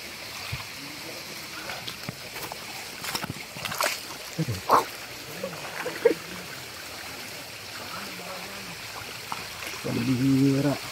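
A river flows and trickles continuously in the background while people talk intermittently nearby, with occasional clatters and a dog-like bark.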